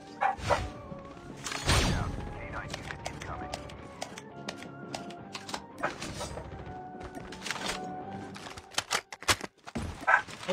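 A dog barks in a video game, brief yips heard amid game sounds while a player talks over the action.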